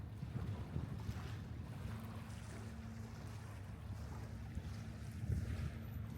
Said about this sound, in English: hear the waves shifting the shingle, nor hear the hum of the ferry